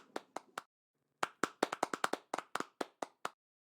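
Virtual applause from an online event's clap function: a few sharp hand claps, a short pause, then a quick run of about a dozen crisp claps, clean and close, with no talk.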